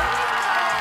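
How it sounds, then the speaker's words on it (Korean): A TV trot music competition studio audience cheers and applauds a contestant's entrance, a dense continuous roar of crowd noise and shouting heard briefly. "뜨거운 박수 맞이해주세요."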